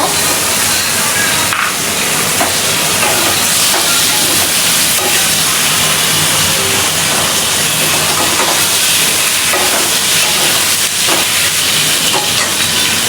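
Chicken pieces and rice cooking together in a pot give off a steady, loud steamy hiss with faint sizzling crackles, continuous from start to finish with no voices.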